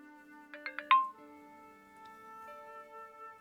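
Phone alert for incoming tweets in the game Broken Sword 5: a quick run of four bright electronic beeps ending on a held tone. A sustained musical drone continues underneath, with no talk.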